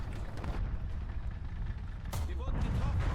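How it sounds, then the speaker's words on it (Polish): In the War Thunder tank game, an unseen tank engine rumbles low and continuous off to the right, with a sharp bang-like burst partway through. "Słychać silnik z prawej strony"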